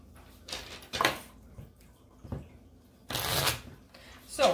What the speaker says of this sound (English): I'm just gonna do a quick shuffle here